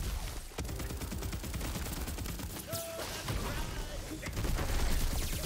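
Dediore guns fire in Tiny Tina's Wonderlands, a dense stream of rapid synthetic shots and impacts running steadily throughout, fairly loud and continuous with game effects layered in.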